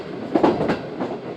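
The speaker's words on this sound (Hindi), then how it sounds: "गाड़ी नॉर्थ ब्लॉकहाट रेलवे स्टेशन पहुंच रही है" Pak Business Express (34Dn, Multan Cantt to Rohri) rolling along the rails as it nears North Blockhat station, its wheels sending out a steady, rhythmic clickety-clack with a few louder wheel knocks close by.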